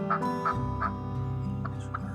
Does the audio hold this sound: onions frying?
no